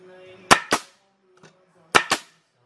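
MAX CN630 coil pallet nailer driving nails: two pairs of sharp, loud pneumatic bangs, each pair a quick double crack, separated by a pause with a faint click between them.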